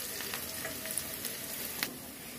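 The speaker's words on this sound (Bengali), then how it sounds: "আমি প্রথমে কড়াইটা গরম করে তারপর তেল, তারপর হচ্ছে মরিচ পেঁয়াজ দিয়ে নাড়তেছি" Chili and onion stir-fry in hot oil in a wok, giving a steady, close sizzle with a few sharp crackles and spatters throughout and no talking.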